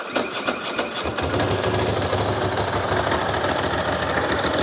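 A Ducati motorcycle engine runs at fast idle around 2,500 to 2,800 RPM, a loud, steady mechanical clatter with rapid knocking pulses, briefly uneven at the start before settling into a constant drone.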